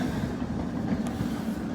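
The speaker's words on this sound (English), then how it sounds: "Like this tram coming up right here." A tram comes up along the street on an evening walk, giving a steady low rumble and rolling noise that stays even in level throughout.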